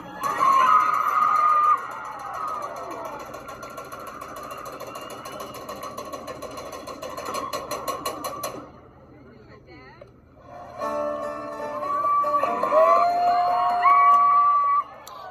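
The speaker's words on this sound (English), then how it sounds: "And you can see and hear the excitement from the crowd. And in the background, you'll even hear some shouting from the community" An excited crowd at a community cultural dance event shouts and lets out high trilling cries over steady background commotion. It drops nearly quiet for a moment partway through, then swells again with loud, warbling calls.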